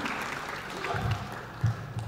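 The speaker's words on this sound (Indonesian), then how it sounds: "Mohon tepuk tangan atas insight-nya dari pemimpin-pemimpin kita ini." An audience applauds panel leaders at an Indonesian executive forum on the green economy; steady, moderately loud clapping from a crowd with a few heavier claps near the end.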